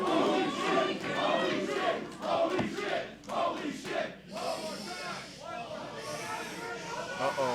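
An arena crowd at a TNA wrestling match roars and chants in surging waves, rising and falling in loud bursts, with commentary talking over it.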